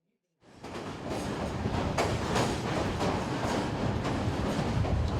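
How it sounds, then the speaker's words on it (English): A train rolls along steadily after a brief silence, a loud continuous rumble with rhythmic clacks of wheels over rail joints, close and unbroken. "Time to get back on board the train."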